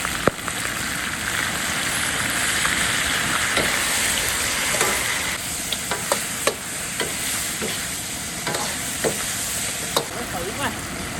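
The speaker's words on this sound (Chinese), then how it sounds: "我继续炒。 加一点鲜酱油一起炒一下。" Pork ribs stir-fried in a wok with light soy sauce for sweet-and-sour ribs give a steady close sizzle, with a spatula scraping and clacking against the pan in irregular strokes throughout.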